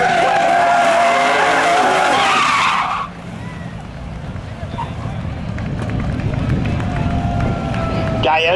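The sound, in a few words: race car spinning out during spectator drag race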